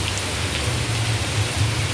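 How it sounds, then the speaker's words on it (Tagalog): Heavy downpour hammers steadily and loudly on surfaces nearby, a dense unbroken roar of rain with no voices. "Grabe. Ang ulan oh."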